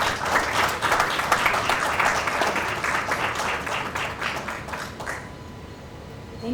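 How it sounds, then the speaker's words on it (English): Applause from a conference audience after a speech ends, a dense, steady wash of many hands clapping that holds for several seconds and then thins out and fades near the end. "Another round of applause"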